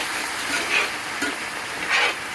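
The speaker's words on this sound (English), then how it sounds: "You still want it bubbling. So it bubbles like that, starts to deglaze that" Red Cabernet wine bubbling and sizzling in a hot pan with browned beef as it deglazes, a steady close frying hiss with soft stirring scrapes and small swells.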